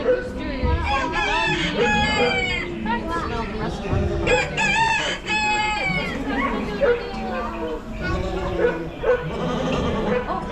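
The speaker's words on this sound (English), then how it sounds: "Look at the chickens and the roosters" Chickens and roosters on an American farm, with crowing and clucking calls running throughout amid busy overlapping farmyard animal noise, including a dog-like bark, all close and fairly loud.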